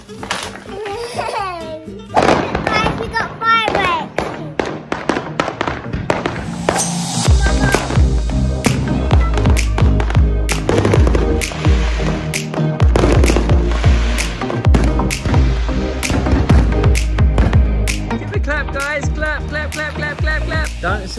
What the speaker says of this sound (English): Guys, we got fireworks.